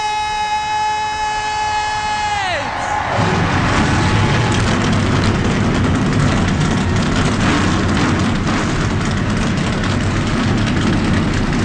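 Stock cars in NASCAR Racing 2003 fire up together: a descending, siren-like whine for the first couple of seconds gives way to a loud, steady low rumble of many engines idling close by.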